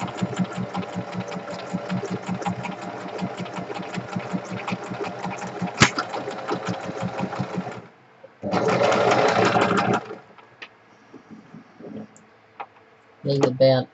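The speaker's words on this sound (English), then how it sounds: "Let's just do 2 zigzag stitches right across there." A sewing machine runs zigzag stitches across fabric placements in a steady rapid chatter for about eight seconds, stops, then gives a shorter burst and a final brief run, with quiet gaps and faint handling between.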